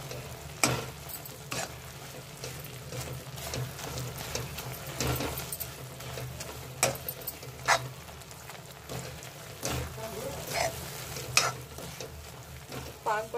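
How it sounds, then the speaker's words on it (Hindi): Coconut and sugar syrup being stirred together in a pan for nariyal pak, a steady wet scraping and gentle sizzle with occasional sharper spoon knocks, close and continuous with no talking. "इस तरह से इसको स्टन करते हुए चाशनी को अच्छे से इसमें मिक्स कर लेना है।"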